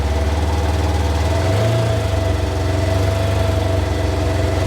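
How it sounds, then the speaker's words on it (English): A 2022 Polaris RZR Trail S engine, running with a suspected misfire, idles then rises in pitch as the throttle is slowly opened, a steady close mechanical drone with a slight knocking pulse. "let's go ahead and try to increase the RPM, see what it does"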